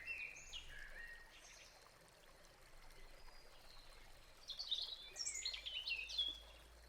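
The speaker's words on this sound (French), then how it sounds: "Écoute le bruit de l'eau ainsi que le chant des oiseaux." A forest stream trickles softly and steadily while birds chirp and sing, with brighter, busier birdsong toward the end.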